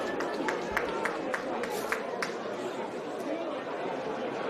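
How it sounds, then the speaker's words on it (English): Stadium crowd chatter fills CC National Stadium as spectators settle in for a Fijian U20 versus Australian Country rugby match, a dense steady murmur of many voices with scattered claps and sharp calls breaking through. "Crowd still building here, CC National Stadium."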